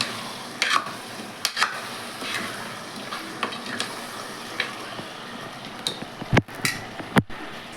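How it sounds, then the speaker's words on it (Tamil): Curd being stirred into chicken kurma in a pan, with scattered spoon scrapes and knocks against the metal over a soft, steady sizzle, and no talk. "தயிர் ஊற்றி நல்லா கிளறி"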